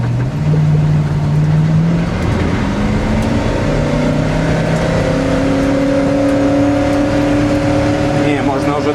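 A ZIL truck fitted with an American V8 engine accelerates hard, its loud engine note climbing steadily in pitch through the gears, close and continuous, with voices talking over it.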